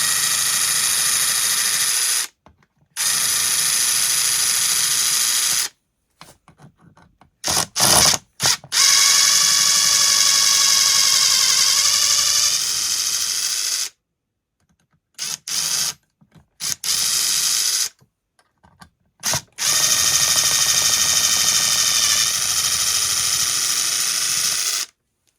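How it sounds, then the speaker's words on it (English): A power driver backs screws out of a Stihl 044 Magnum chainsaw crankcase during a case split: several loud whirring bursts with rising pitch, separated by short silent pauses, and no talking. "Now I'm just going to back out these screws here."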